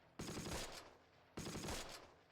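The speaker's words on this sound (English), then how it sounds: "I'm gonna lay down some suppressive fire on it." Two sharp bursts of machine gun fire from the Close Combat war game ring out about a second apart, each a dense, close rattle that stops abruptly, with no talk over them.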